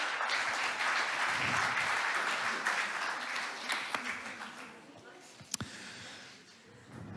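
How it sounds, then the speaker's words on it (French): A church audience at a celebration service breaks into sustained applause that fades gradually, with scattered claps and murmurs at the end. "On applaudit les Parisiens."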